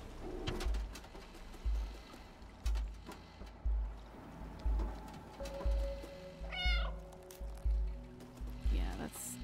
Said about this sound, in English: meowing in this game actually does serve some kind of a purpose